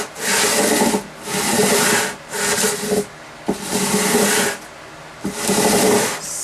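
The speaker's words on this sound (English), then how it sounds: "I'm going to take my sandpaper, I'm going to wrap it around the sole like that, and then I'm going to very carefully" Sandpaper wrapped around a sole rasps along guitar frets in five loud, close strokes, each a steady hissing rub of about a second, separated by brief pauses and occasional knocks as the block is repositioned.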